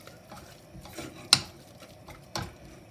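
A utensil stirs seasoned scrambled eggs in a pan, making soft scraping and stirring sounds with a couple of sharper clinks against the pan, quiet and close.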